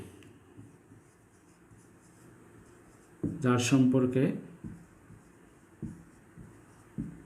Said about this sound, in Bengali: আমি ডেফিনিশনগুলো একটু সংক্ষেপে লিখতেছি